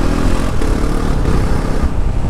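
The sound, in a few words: Bajaj Pulsar NS 400Z motorcycle accelerating in second gear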